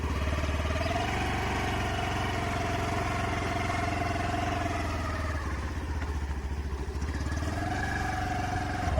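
Honda Activa scooter engine idling and running nearby, a steady mid-pitched drone with a slight clattery edge throughout, fairly constant in level.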